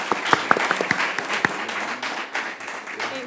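An audience at an international forum on fiscal decentralization applauds the panelists as the panel closes. A few sharp, nearby claps stand out over the dense clapping of the crowd, which holds steady and then eases slightly.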